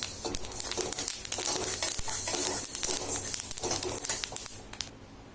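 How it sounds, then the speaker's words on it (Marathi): Masoor lentils dry roasting in a pan for thalipeeth flour, a close, faint, continuous crackle and rustle of stirred grains that runs through nearly the whole stretch. "हे बघा मसूर छान भाजून झालेली, आवाज यायला सुरुवात झालेला आहे."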